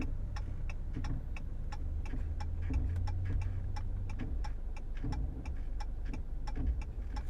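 Rapid regular ticking or clicking from car brakes as they release, over a steady low engine hum, close by with no talking.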